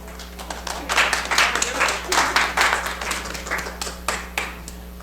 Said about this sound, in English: Claps for all.